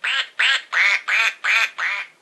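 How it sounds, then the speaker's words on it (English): A toy duck quacks six times in a steady rhythm, each quack a loud, nasal, buzzy squawk heard up close and alone. "He quacks."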